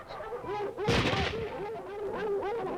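A heavy burst of gunfire blasts through amid bird-like squawks and steady background noise, a chaotic battle scene used to test whether dogs stay calm.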